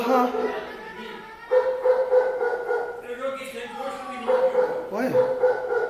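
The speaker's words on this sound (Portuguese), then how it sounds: "Olha, é cachorro, é o cara que vai no meio da rua." A dog barks repeatedly out on the street, loud and close, with yips and bow-wow calls in uneven bursts while someone talks over and between them.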